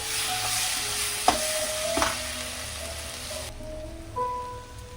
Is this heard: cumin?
yes